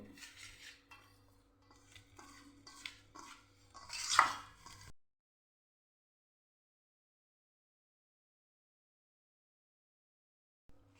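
Fenugreek leaves being mixed into a dough mixture for Kathiyawadi methi gathiya, with a few seconds of scraping, clinking and stirring against a bowl, one louder knock near the end, then near silence.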